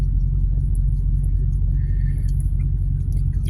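A truck cab at highway speed, around 65 miles per hour, with a heavy, steady low rumble from the road and engine filling the cab throughout and faint rattles above it.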